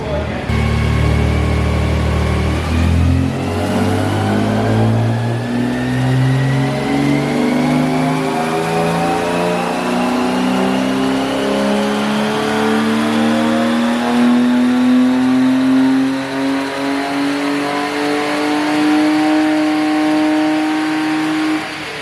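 A drift car engine winds up steadily through a long dyno power run making about 190 horsepower, the loud rising whine climbing in pitch for nearly twenty seconds before easing off near the end.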